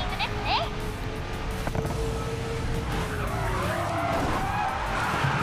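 Racing cars, a Bugatti Chiron and a Porsche, in the Racing Master mobile game, with a steady engine drone, a long tyre squeal and skidding, and talk over the top.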